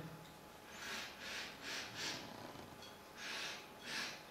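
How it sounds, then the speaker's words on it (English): Someone sniffs a Ceylon pekoe tea infusion close to the microphone, a series of soft, breathy inhalations in a loose rhythm, several in a row with short pauses between, faint and without talk. "Let's give it a quick sniff."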